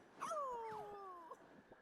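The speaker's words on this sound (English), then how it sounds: "He just howled like a dog." Ulfie, a companion creature in a cozy video game, lets out a single rising then falling howl like a dog, a clear drawn-out tonal call with a doubled voice lasting about a second, followed by quiet.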